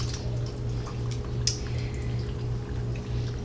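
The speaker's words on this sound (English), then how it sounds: "now what we're going to do is pour in our milk." Milk poured into a pot of summer corn chowder, a steady liquid pour with soft dripping and splashing over a low constant hum, close and moderately quiet, with no talking.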